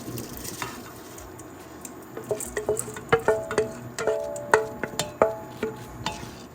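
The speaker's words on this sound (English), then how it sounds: "now I'm gonna add the rice" Rice added to a pan and stirred while cooking, with a run of crisp, close patters and clicks growing denser through the middle over a low sizzle, ending in scattered stirring scrapes.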